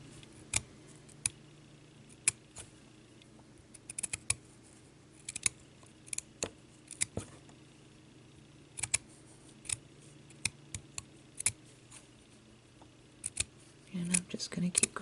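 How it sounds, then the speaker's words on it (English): Repeated crisp snips of long-blade scissors cutting through felt, irregular but steady, close up over a low background hum. "the long blade scissors work best for me"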